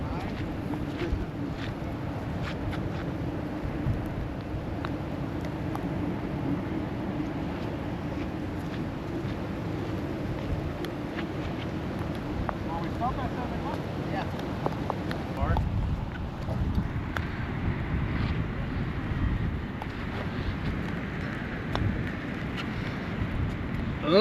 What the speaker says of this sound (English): Oh, the wind up.